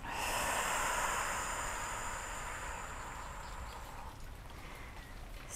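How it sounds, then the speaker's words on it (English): A deep breath drawn in and let out slowly during a yoga session, a soft airy rush close to the microphone that fades gradually, quiet and without talk. "Take a deep breath in and a deep breath out"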